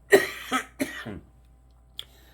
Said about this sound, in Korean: 기침이 자꾸 나와가지고